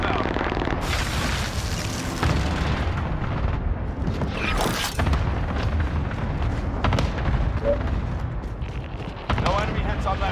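Airstrike explosions in a video game, heavy rumbling booms and blasts layered with rapid gunfire in a dense, continuous battle din, loud and close throughout.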